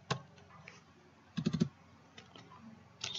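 Password being typed on a computer keyboard, a few scattered key taps followed by a quick burst of clustered keystrokes and another tap near the end, quiet and close with no talking.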